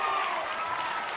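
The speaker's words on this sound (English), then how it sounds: "And listen to this crowd on our right-hand side." Crowd noise from spectators at a high school 6A baseball tournament game between Lehi and American Fork, a steady, dense roar of cheering and clapping that holds loud and even throughout.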